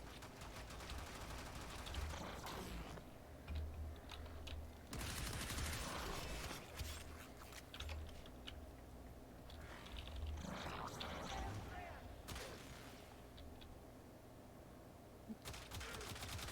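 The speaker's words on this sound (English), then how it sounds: "now they're going to try and shoot me, but they can't." Enemies firing guns in the Warframe video game: several loud bursts of rapid automatic gunfire break out between quieter stretches of mechanical game noise, with occasional single shots.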